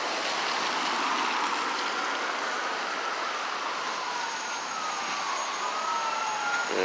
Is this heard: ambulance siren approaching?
yes